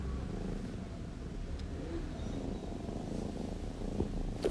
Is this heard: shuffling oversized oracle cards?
no